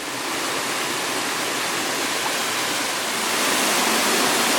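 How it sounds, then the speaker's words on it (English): A small sliding waterfall on a rainforest creek, heard up close as a steady, loud, broadband rush of falling water with no voices. "This is so incredibly pretty, this waterfall."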